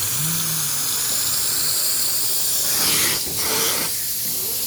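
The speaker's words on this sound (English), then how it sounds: "we pre-sprayed all the pews with Predator pre-spray mixed up in a pump-up sprayer" A pump-up sprayer hisses in a steady, close spray of pre-spray over church pews, continuously, briefly pausing and restarting near the end, with no voices.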